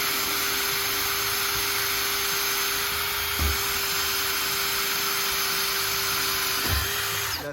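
A power drill whirs steadily, driving a screw into a wooden kitchen cabinet, with a continuous high whine and two brief thumps where the bit bites, loud and close with no talk.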